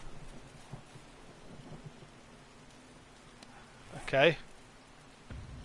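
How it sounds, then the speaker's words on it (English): Rain falls in the survival video game 7 Days to Die, a soft steady hiss broken by one louder rumbling thunder burst, with a voice briefly heard. "It's raining."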